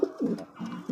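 A pair of Aladdin pigeons in a loft giving soft, low cooing calls up close, three or four rolling coos in under a second with no voices.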